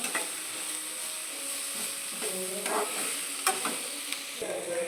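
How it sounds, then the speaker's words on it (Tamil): Bitter gourd sizzles and sautés in a pan with salt, with soft stirring scrapes and a few clinks of a spoon, close and fairly quiet. "இதை இப்போ நல்லா உப்பு போட்டு நல்லா வதக்கிக்கலாம்"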